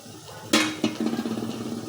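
Green chilies dropped into a pan of frying dried fish, with a sudden sharp clatter and hiss, a second knock, then a rapid series of metallic scraping taps against the pan.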